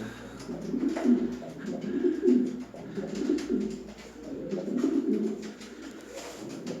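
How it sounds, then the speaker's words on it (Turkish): A male pigeon courting a female coos repeatedly in soft, rolling phrases, close by, with faint background noise between calls. "Dişiyi görünce kendinden geçen bir erkek güvercin."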